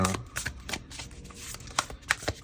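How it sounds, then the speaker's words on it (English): A tarot card deck is shuffled close by in a brisk run of soft riffling flutters and sharper snaps, uneven and moderately loud, with no talk. "let's shuffle them up"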